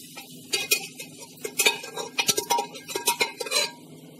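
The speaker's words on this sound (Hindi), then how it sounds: "तो अब हम इसमें छोले डाल देंगे और खूब अच्छे से मिक्स कर लेंगे" A spoon scrapes and clatters against a metal pan in irregular bursts, stirring chickpeas in thick spiced curry close up, with no voices.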